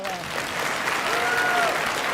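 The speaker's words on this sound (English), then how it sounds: "Can we have a round of applause for the Sierra Middle School" Audience applause for Sierra Middle School athletes at a girls and women in sports luncheon, a steady dense wash of clapping throughout with a faint voice or whistle tone drifting over it.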